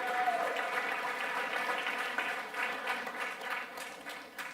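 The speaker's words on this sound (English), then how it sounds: "Let's clap it up one time for Perry's Joint." An audience at a town hall meeting on soil testing applauds steadily for a local business, a dense wash of clapping that stays fairly even before thinning slightly toward the end.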